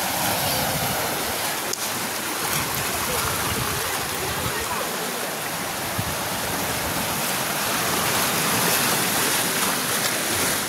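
Water washes up onto the shore in a continuous, loud, rushing surge with no clear breaks, and faint voices are audible underneath.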